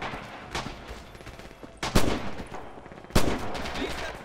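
Gunfire in the Red Orchestra 2 war game: a few scattered rifle shots, then two loud, sharp reports with echoing tails, spaced over a few seconds, close to the listener.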